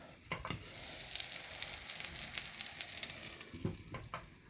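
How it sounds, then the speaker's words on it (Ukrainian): Liver cutlets fry in a pan with a steady close sizzle and crackle throughout, broken by a few brief scraping or stirring sounds near the start and end. "І я роблю такі от печеночні котлетки, розтрьопки називаються."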